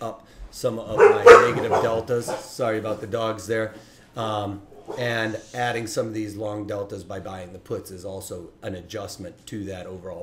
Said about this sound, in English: Sorry about the dogs there.